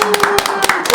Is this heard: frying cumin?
no